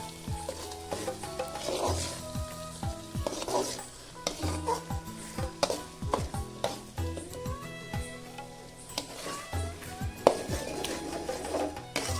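Egg and rice stir-fried in a pan for restaurant-style egg fried rice, with a steady sizzle under repeated scraping and clanking of a spatula against the metal, loud and close throughout.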